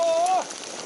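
Steady hiss of heavy rain close by while cycling, with a brief whining tone fading out early on.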